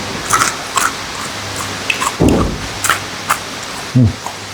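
Crunchy bites into a crisp fried pastel pastry that has cooled, with a few loud crackling crunches standing out over steady background hiss.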